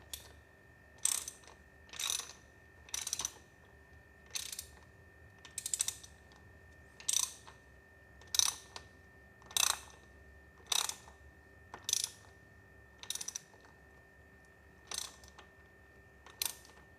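Ratchet tightening the oil drain bolt under a Suzuki V-Strom 250SX motorcycle, a quiet series of about a dozen short clicking bursts at a steady rhythm, close by, with no talk.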